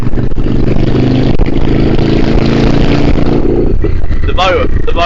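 A Yamaha Virago 535 motorbike engine rumbles steadily nearby, with a brief rev near the end, while a person talks over it.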